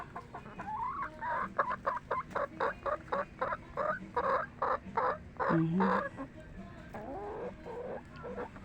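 A mother hen clucks near a nest box in a rhythmic run of short, evenly spaced clucks followed by a drawn-out call, fairly close over a low background hum.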